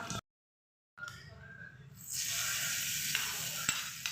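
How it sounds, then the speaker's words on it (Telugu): A sizzling tempering of mustard seeds, dals and curry leaves is poured into ginger chutney and stirred. A short silence comes first, then a soft hiss that swells into a steady, louder sizzle with faint scraping. "పోపు వేగిపోయింది ఇప్పుడు పచ్చట్లు వేసేస్తాను"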